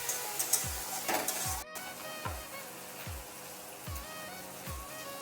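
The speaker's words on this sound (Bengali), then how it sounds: "ভালো করে একটু ভেজে নিচ্ছি।" Tomato and slit green chillies fry in a pan, a continuous bright sizzle broken every second or so by the thump and scrape of a spatula stirring, fairly close and steady.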